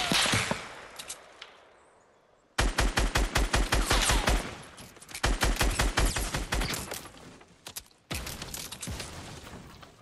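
Rapid automatic gunfire rattles in Fortnite gameplay, several long bursts of loud, closely spaced shots separated by short pauses.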